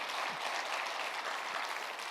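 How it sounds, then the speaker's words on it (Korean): A congregation at a Korean fasting prayer retreat in Gangnam applauds in worship, a soft, even wash of many hands clapping, heard faint and somewhat distant throughout. "주님께 영광의 박수를 한번 다 올려드리고 싶습니다"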